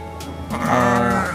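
A fullblood Dorper sheep, an imported meat breed, gives one loud, close bleat in a pen with no other sounds around it.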